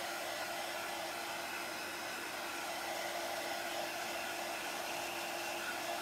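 A hair dryer blowing on a wet chalk paste bunny craft, a steady loud whooshing hum that runs without a break and with no talking over it.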